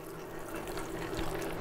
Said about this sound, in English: I'm pouring the eggs into the mixer